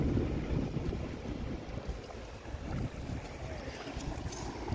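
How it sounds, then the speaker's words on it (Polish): Strong outdoor wind buffets the microphone in heavy, continuous rumbling gusts that swell and fade, covering most other sound. "A rozwiało się jak cholera, nie będziecie pewnie w ogóle już mnie słyszeć"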